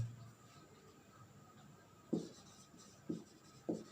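Faint scratchy strokes of writing on a board during a chemistry lesson, with three sharper taps or strokes in the final two seconds, quiet and alone.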